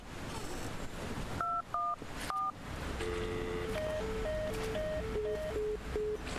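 Telephone keypad dialing tones in a horror video game, a series of short evenly spaced beeps at varying pitches over a low background drone.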